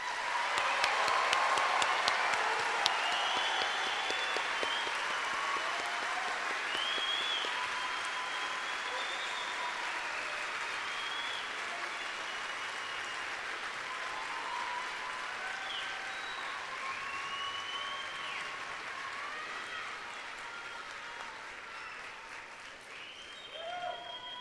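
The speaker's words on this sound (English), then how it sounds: "let's at this time give our graduates one final round of applause" A large audience claps steadily for graduates at a spring university commencement, a dense, sustained wash of applause that holds from start to finish with no one speaking.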